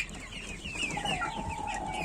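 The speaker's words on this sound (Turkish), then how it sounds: "Horozcuklar." Young Bresse roosters, six weeks old, clucking and giving short squeaky, breaking crow-like calls up close, with soft farmyard background noise and no talking.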